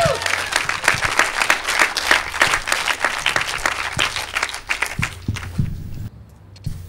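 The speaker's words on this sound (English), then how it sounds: "if we could just give a really loud cheer so they can hear how much we appreciate what they've been doing" A crowd at a MoveOn.org gathering claps and cheers loudly in a dense burst that thins out over about seven seconds, with a few scattered claps at the end.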